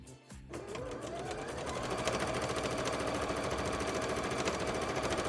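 A sewing machine stitches a petticoat for cosplay, its rapid, steady mechanical chatter running continuously and fairly close after a brief pause at the start, with no talking.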